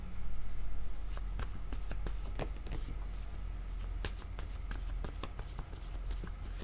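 Playing cards being shuffled by hand before a word card is drawn, a steady run of crisp riffling clicks and flicks lasting several seconds, close and alone with no talk.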